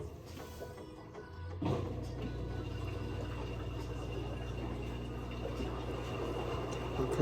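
A washing machine named Sydney runs its rinse cycle, a low steady motor hum with faint sloshing water that swells in after a quiet start and carries on evenly to the end.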